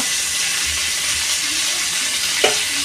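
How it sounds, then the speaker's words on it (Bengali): Whole cumin, one dry red chili and a bay leaf sizzle in hot oil as a tempering for a Bengali prawn dish, a steady close frying hiss with a brief clatter near the end. "একটা শুকনো লঙ্কা, একটা তেজপাতা, ফোড়নটা আমি ভালো করে ভেজে নেব।"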